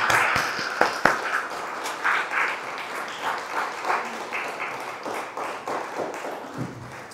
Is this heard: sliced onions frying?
no